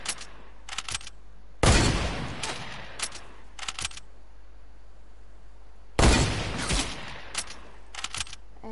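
Minigun fire in a video game comes in two long, loud sustained bursts plus several shorter rattling volleys, close and harsh, separated by quieter gaps.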